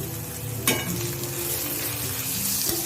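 Chopped onion and tomato fry in a pan for shev bhaji, a continuous near sizzle broken by a couple of sharp utensil knocks, with no talking.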